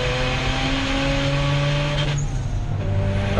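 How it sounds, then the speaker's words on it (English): A Citroen Saxo race car drives into the pit lane at Donington Park during a track event. Its engine drones steadily with shifting harmonic tones and is heard from above amid circuit noise. No one speaks over it. "Another car into pit lane down below us is the number 40 car"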